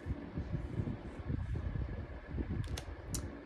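Outdoor wind blows in a continuous low roaring buffet against the microphone, steady and fairly loud throughout.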